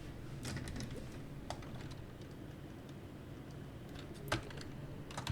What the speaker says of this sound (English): I will type here cache